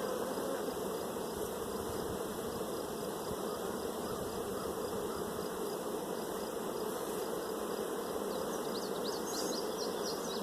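Honey bees buzzing densely around an open, agitated hive being split into nucs, a constant close droning swarm with no talking.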